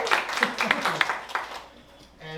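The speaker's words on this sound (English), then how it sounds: "let's give James a round of applause" A small group claps for James, a retiree starting out in real estate: a short, sparse patter of close hand claps that fades after about a second and a half, then a voice starts speaking.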